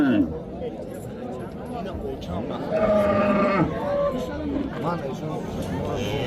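Well-fed cattle low at a busy Saturday livestock bazaar in Uzbekistan, with a drawn-out moo rising over constant crowd chatter and nearby voices.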